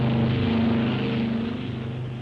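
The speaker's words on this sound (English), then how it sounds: "Colonel Jimmy Doolittle had trained his men diligently in the technique of taking off in a bomber on a short runway" Heavy propeller-driven bomber engines roar steadily as the plane takes off from an aircraft carrier deck in a wartime Pacific newsreel. The drone is loud and continuous with strong low harmonics and no voices.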